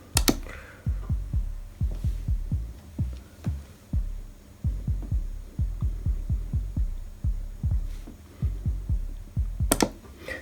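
Saved MIDI note pattern playing back from a PITT CC FLWR sequencer, a soft low thumping bass pattern of repeated short notes in steady groups, with a brief click near the end.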